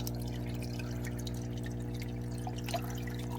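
Water runs steadily down a gold sluice box, a continuous pouring, trickling wash with a low hum underneath, close and unbroken.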